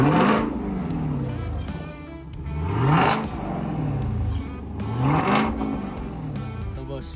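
A Chevrolet Camaro engine revving repeatedly while parked, rising and falling in three long swells with a loud, steady roar throughout.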